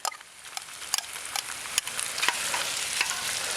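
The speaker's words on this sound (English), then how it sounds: "Starting to sizzle away." Purple and white onions sizzle in a hot pan with a steady crackling hiss, marked by scattered sharper pops, moderately close, with no talking.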